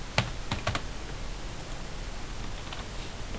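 Code is typed on a computer keyboard: a quick burst of four or five clicky keystrokes near the start, then faint scattered taps over a soft background hiss, with no speech.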